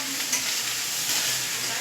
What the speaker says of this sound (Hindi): मेरे लिए तो चावल फ्राई हो गए